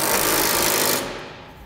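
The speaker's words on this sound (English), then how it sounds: "Now we'll tighten down our crossbars to our side plates." Power tool driving a socket onto crossbar bolts of a Curt gooseneck trailer hitch on a 2016 GMC Sierra 2500: a loud, close rattling buzz for about a second, then fading and winding down.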